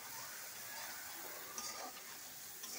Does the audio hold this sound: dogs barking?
no